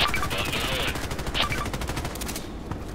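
Rapid gunfire from a KelTec RFB Carbine in the online shooter Contract Wars on the Site map crackles loudly in dense repeated bursts, close and continuous across the moment.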